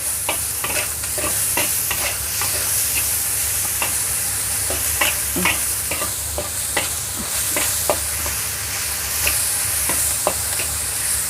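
A spoon stirs a tofu and shrimp filling mixture seasoned with pepper, chicken powder and MSG, giving steady scraping and soft clicking strokes over a continuous low hiss, with no talking.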